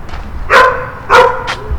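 A few sharp dog barks ring out at a moderate distance, spaced apart with pauses between them over a low background rumble.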